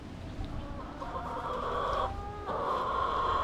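Hens cluck steadily in a backyard coop, several birds overlapping in a continuous, moderately close chatter.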